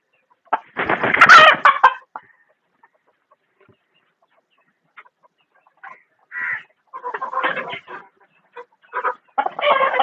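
A Sonali cross rooster and chickens at a village poultry farm cluck in short bursts, a loud flurry near the start, then a pause and a run of repeated clucks toward the end, with no talking.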